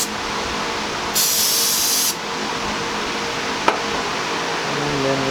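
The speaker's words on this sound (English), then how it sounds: "Spray activator." Spray activator is sprayed in one sustained hissing burst of about a second during a PVC pipe craft project, followed by quieter handling noise and a single small knock.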